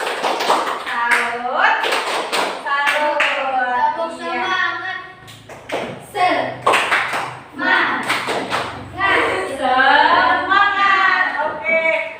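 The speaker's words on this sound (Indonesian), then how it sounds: "kita tepuk salut dulu lah tepuk salut salut salut salut" A school class claps a rhythmic chant together in a classroom, with sharp hand claps punctuating loud, close chanting voices throughout.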